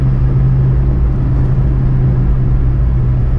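A 1991 Subaru Sambar Dias II supercharged van accelerates uphill in fourth gear, with a steady, loud engine drone and road rumble heard from inside the cab, with no talking.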